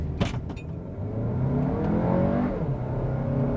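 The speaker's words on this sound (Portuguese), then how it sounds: "vou fazer uma pequena aceleração aqui, vou parar, aproveitar que eu estou sozinho, vou carregar o motor um pouco" An Audi Q3 45 TFSI Quattro Anniversary Edition SUV launches from a standstill at 2,200 rpm, its engine note rising steadily in pitch as the car accelerates hard, close and loud.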